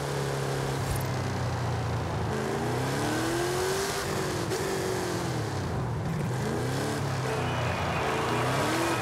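A 1983 GMC Vandura G 1500 van tuned to 1750 hp in Forza Horizon roars as it accelerates hard, with its engine pitch climbing and dropping across several gear changes, loud and continuous with no talk.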